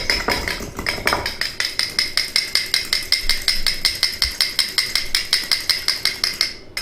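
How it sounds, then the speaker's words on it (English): Egg being whisked briskly in a bowl for a Wellington glaze: a fast, even run of sharp clinking strokes, several per second, close and loud, after a brief crack at the start. "just crack an egg, just like that. Use that, and then just whisk it up."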